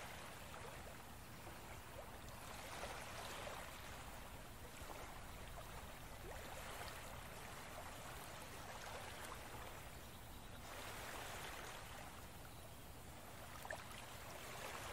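Gentle ocean waves wash in a calm sleep-story soundscape, a soft, steady broadband rush that swells and recedes slowly and evenly, with no voices.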